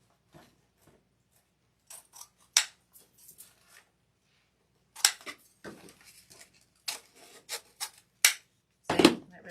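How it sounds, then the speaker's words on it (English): Scissors trim the loose ends of deco mesh on a Mardi Gras evergreen wreath, giving scattered crisp snips and light rustling close by, with no talking. "And now we can trim these off."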